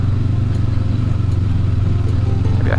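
A 2019 Honda CB500X motorcycle climbs a steep hill of very loose, dry, dusty dirt with the rider standing up. The engine drones loud and steady with a low rumble and faint clatter over the whole stretch.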